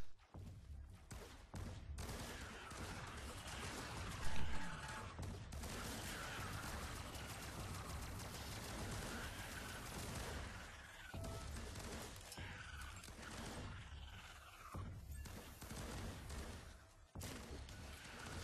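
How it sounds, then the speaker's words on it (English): Automated turrets in the Firefall video game fire continuously in dense, overlapping bursts, a constant barrage of combat noise with one louder spike, and no talk over it. "these turrets are doing the majority of the work for us"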